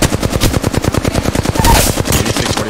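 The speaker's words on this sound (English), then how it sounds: "They're shooting at me!" Rapid automatic gunfire in the Apex Legends video game, loud dense bursts of shots in quick succession with more fire layered in.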